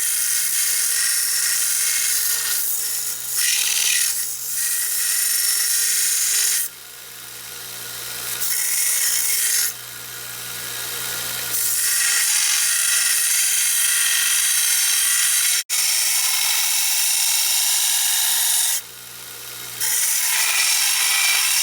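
Power grinder shaping a steel bolt head into a pommel for a forged rapier dagger, a loud, continuous, harsh whine with short pauses and shifts in pitch as the tool bites and lifts.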